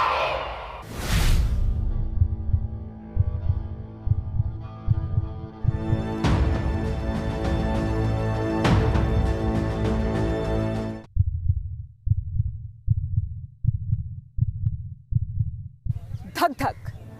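Heartbeat sound effect thumping in a regular lub-dub rhythm, loud and close, with a sustained musical tone swelling over it midway before the beats continue alone.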